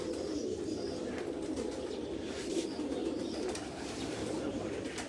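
Steady low cooing from several Sialkoti pigeons on a rooftop fills the space, close and even, with no clear talk over it.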